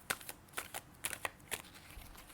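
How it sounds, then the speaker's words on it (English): Cards are shuffled by hand in quick riffles, about eight crisp bursts in a row, close and quiet, with no talking. "I'm going to keep shuffling."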